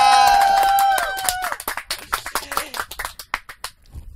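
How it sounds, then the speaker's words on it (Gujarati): Audience applause for the whole team at a live Gujarati folk music jamming show, scattered claps and cheers rising as sustained singing or instruments fade out, fairly close and loud. "એક વાર જોરદાર તાળી આ આખે આખી ટીમ માટે"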